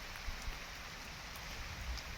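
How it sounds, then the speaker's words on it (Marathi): Steady rain falling on an open sugarcane field, a dense even hiss with scattered soft drop impacts, close and continuous with no voices. "आणि पावसाची चळक चांगली चालू झाली."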